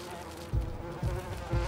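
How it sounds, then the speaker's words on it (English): Wasps buzz in the LEGO Marvel Super Heroes 2 video game, a steady insect drone with three soft periodic thumps beneath, close and moderately loud. "Wasps"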